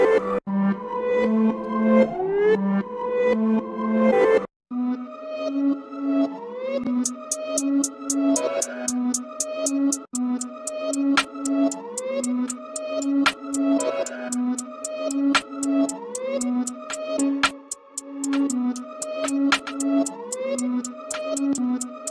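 Synthetic music loop of repeating pulsing tones, processed through a DAW Cassette tape plugin, with a steady ticking rhythm added partway through; looped phrases cycle evenly with a brief gap near the start.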